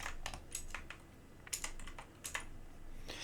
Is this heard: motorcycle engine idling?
no